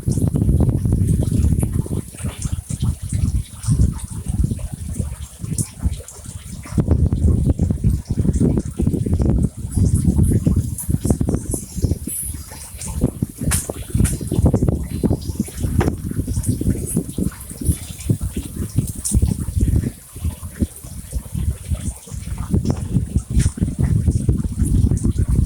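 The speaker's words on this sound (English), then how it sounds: "I'm just giving it adequate amount of water so that by the time the day is finished, the soil is going to be dried out a bit" Garden plants in Trinidad are watered with a continuous gushing, splashing stream that shifts in strength as it moves around the beds, loud and close throughout and nearly unbroken.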